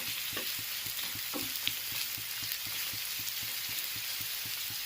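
Chopped onion frying in oil in a pan for aloo paratha, a steady dense sizzle with soft rhythmic stirring scrapes throughout, close and fairly quiet.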